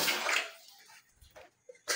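Tap water gushes into a bathtub for a bath, loud at first and then dropping away to faint splashes and trickles with brief pauses.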